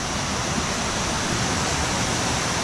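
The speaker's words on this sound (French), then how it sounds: "et on voit le début de la cascade" Steady, dense roar of the Kuang Si waterfall in Laos filling the whole clip, broadband and unbroken with no voices.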